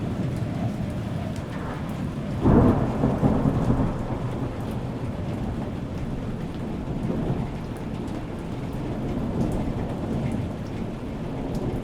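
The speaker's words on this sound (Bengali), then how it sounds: "দেখতে দেখতে শুরু হলো ঝিরিঝিরি বৃষ্টি" Steady rain falls continuously while a deep roll of thunder rumbles early on, then the downpour carries on evenly.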